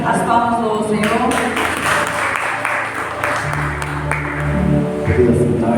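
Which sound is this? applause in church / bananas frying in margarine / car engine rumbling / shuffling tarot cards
applause in church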